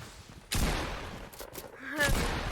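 Shotgun blasts in the video game Fortnite, two heavy booming shots about a second and a half apart with rattling tails, close and loud.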